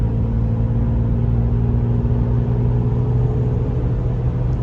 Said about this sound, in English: You can hear that turbo spool a little bit, the intake, which is really cool on this car